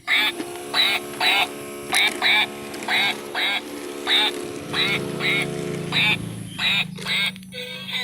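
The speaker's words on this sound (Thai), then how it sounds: "เป็ด" A duck quacks over and over in a steady, regular rhythm, loud and close, with a low rumbling noise joining partway through.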